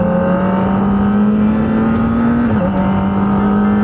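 Kawasaki ZX25R motorcycle engine holding a steady high-revving drone, then a quick dip in pitch around a downshift from the auto blipper before settling again, loud and continuous with no talk.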